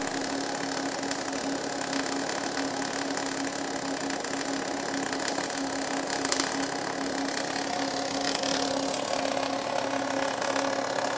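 A Redi2Weld automated welding system with a pendular oscillating torch and horizontal slide runs on a pipe root, giving a steady, dense buzzing hum with a constant tone and no pauses.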